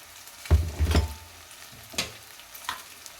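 Fried stuffed eggplant curry stirred and jostled in a pan, with a few soft scraping, sizzling bursts in the first second, then two fainter stirs later, close and without talk.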